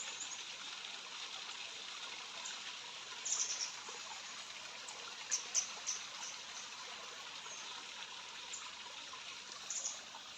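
Cold mountain water trickles softly between small stones on a Himalayan hillside near Dharamshala, a steady gentle burble heard close up, with a few faint bird chirps over it.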